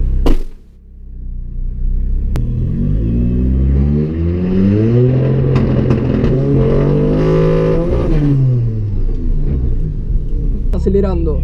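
A car engine revs up and holds at high rpm, the pitch climbing and sweeping in steady harmonic waves, loud and close for several seconds before a short drop near the end, during old-school versus new-school drag racing tuning work.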